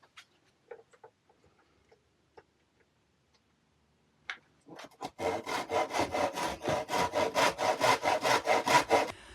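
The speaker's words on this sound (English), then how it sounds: "So I've cut a few lengths of wood" Lengths of wood being hand sawn during a camper van bed build: a few faint knocks and taps, then a steady run of rhythmic rasping saw strokes, close and loud, with no voices.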